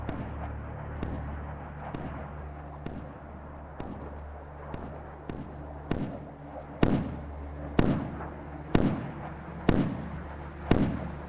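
Missiles fire from warships in the naval combat game Sea Power, a series of about a dozen sharp launch blasts with decaying roars, spaced roughly a second apart and growing louder and heavier toward the end.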